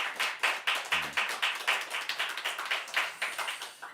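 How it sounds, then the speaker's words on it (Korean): A small audience claps together at a church gathering, sharp handclaps in a quick steady rhythm that stays fairly close and even for the whole stretch, with no voices over it. "박수를 한번 쳐주시죠."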